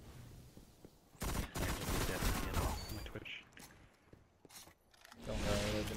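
Rapid bursts of gunfire in the Destiny Trials of Osiris multiplayer mode on the Bannerfall map, loud and overlapping through most of the span, with a player talking over the shots.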